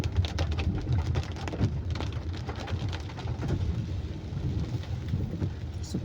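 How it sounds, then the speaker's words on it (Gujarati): Steady rain falls in Bodeli, a continuous dense patter with scattered nearby drips and no voices, holding an even loudness throughout. "આજનો બોડેલીનો વરસાદ આવો છે."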